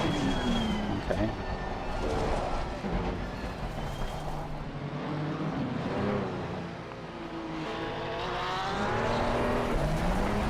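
A Porsche race car in a racing sim at Barcelona roars past the player's car, its engine note rising and falling over steady track noise while a driver talks through much of it.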